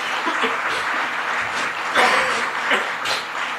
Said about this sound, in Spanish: Vamos a premiarle a él su presencia con un aplauso